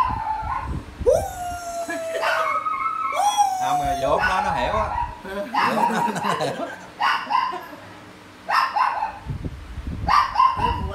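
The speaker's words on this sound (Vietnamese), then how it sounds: "con chó sủa quá trời" A dog barks and howls repeatedly in long, rising wails and short yaps, close by and loud, mixed in with people talking and laughing in Vietnamese throughout.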